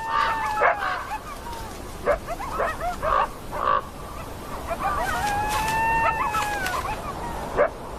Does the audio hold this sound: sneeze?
no